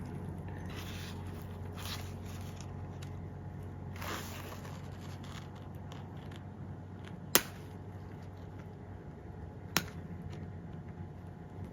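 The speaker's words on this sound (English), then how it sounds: "Now I'm gonna go back to the side cutters and just cut it off." Side cutters snip off the metal top stop of a YKK #5 Vislon two-way zipper. Two sharp, isolated clicks stand out over a steady low background hum.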